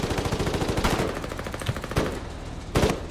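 Machine gun fire in the Foxhole war game, sustained rapid automatic bursts with brief gaps between volleys, loud and close, with no voices over it.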